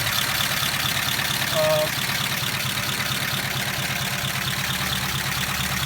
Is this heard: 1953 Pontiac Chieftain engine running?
yes